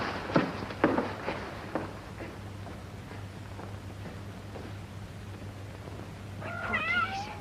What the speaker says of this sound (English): Poor kitties. You had to stay here all this time behind that curtain.